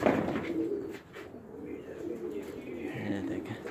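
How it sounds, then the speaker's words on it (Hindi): Young high-flying pigeons coo softly around a new rooftop cage in Saudi Arabia, low murmuring calls over steady outdoor wind and background noise. "ये भी कबूतर निकाले थे, नए बच्चे हैं, उनको ट्रेनिंग के लिए सबको उड़ा दिए"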